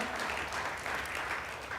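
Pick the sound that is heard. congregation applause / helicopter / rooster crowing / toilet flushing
congregation applause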